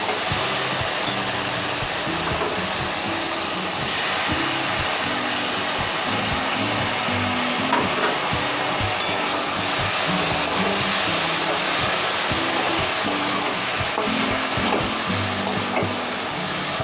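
Ladies' fingers (okra) frying in a pan for a coconut recipe, giving a steady, even hiss and sizzle that carries on without a break, with no one speaking over it.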